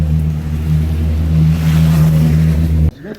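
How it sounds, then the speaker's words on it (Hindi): A Kawasaki motorbike passes on a street in Florence, its engine a loud, steady droning roar up close that cuts off abruptly near the end. "अच्छा कोई अच्छी बाइक आ रही है, कावासाकी आ रही है शायद, कावासाकी है।"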